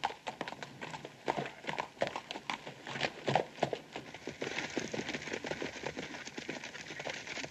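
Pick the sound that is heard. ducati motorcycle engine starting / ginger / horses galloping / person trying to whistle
horses galloping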